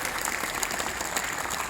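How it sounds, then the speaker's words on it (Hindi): An audience of voters at a voter-awareness event claps together in a dense, steady burst of applause, close and loud throughout. "एक बार दोनों हाथ सामने उठाकर तालियां बजा दीजिए।"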